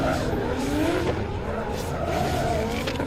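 A BMW E30 drift car thrown hard into a corner, tires squealing in a sustained screech over a loud, revving engine throughout.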